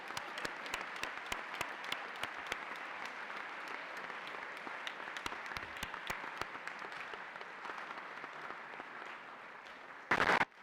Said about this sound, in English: So please all give yourselves a round of applause